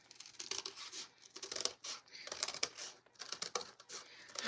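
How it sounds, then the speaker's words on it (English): Scissors cut out a paper heart in a series of irregular, close snips and paper rustles, fairly quiet and crisp, with no talk. "So let me just get the scissors here."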